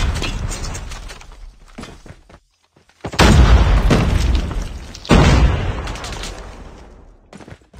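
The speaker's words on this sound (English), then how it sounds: "Grenade out!" A grenade explodes in a first-person shooter match, followed by a second blast; two loud, close booms with long rumbling decay, preceded by softer gunfire-like pops and a brief near-silence.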